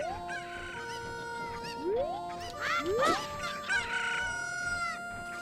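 A chicken clucks and crows in a video game randomizer, with a few short squawks rising over steady tonal game sounds and bleeps.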